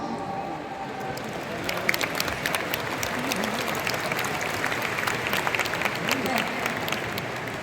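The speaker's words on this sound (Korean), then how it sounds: "여러분, 리위의 이런 노력에 박수 한번 보내주시죠" Seminar audience applauding at a corporate talk, a continuous wash of many hands clapping at moderate distance, steady throughout with a dense crackling texture.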